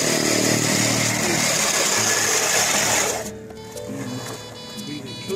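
A classic 20-inch hand push reel lawn mower with a grass catcher cuts grass up close, a loud, steady whirring clatter of spinning blades that drops off abruptly after about three seconds into quieter clicking and rattling.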